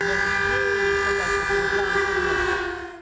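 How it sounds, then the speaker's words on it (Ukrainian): A loud air raid siren in Ukraine during the war holds a sustained, steady wailing tone with no pause. "До 24 лютого 22-го геть лякав і звук сирени"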